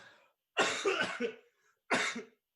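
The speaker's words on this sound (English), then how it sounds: "Is that the Kita Kyushu Corona cough?" Two close, harsh coughs from one person, the first a longer rough burst, then a short single cough after a brief pause.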